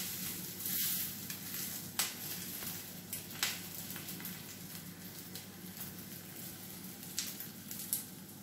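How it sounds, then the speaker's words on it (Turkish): Sucuk sausages sizzling in a very hot cast iron pan, a close steady crackling hiss broken by sharp pops and spatters every second or so, with no talk. "Tava çok kızgın olduğu için hızlı bir şekilde pişmeye başladılar."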